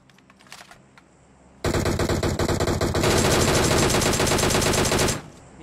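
Automatic gunfire in a battle royale shooter, one long, loud, sustained burst of rapid shots that starts abruptly and runs for several seconds before cutting off, after a quieter stretch of faint background noise.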